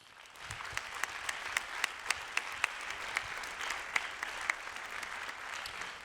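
Audience applauding at a plenary conference session, sustained clapping from a crowd in a hall at moderate distance, with a few sharper individual claps standing out.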